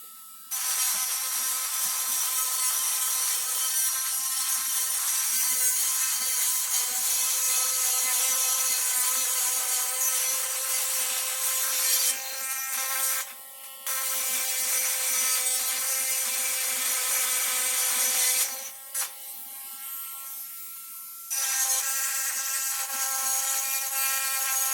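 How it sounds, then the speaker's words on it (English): A Dremel rotary tool cuts into a cymbal with a loud, steady, ringing metallic whine that holds for most of the stretch, broken by a few brief dips where the cutting eases off, with no speech. "Next, you take your Dremel."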